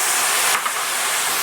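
Onion dropped into a hot pan, a dense steady sizzling hiss, close and fairly loud, with a brief surge as the pieces land.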